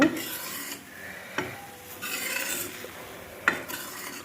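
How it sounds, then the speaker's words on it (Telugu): A milk mixture for homemade palakova sweet is stirred in a pan, giving rough scraping strokes in an uneven rhythm with short sharp knocks of the spoon against the pan, close and alone. "ఇది దగ్గర పడే వరకు ఇలా కలుపుకోవాలి మనం."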